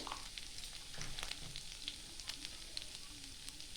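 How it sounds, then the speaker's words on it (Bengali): Ginger sizzling in hot oil in a pan with cumin and coriander, a soft, steady crackle with small pops and a brief stir, close and without talk. "আদাটা একটু ভেজে নেব।"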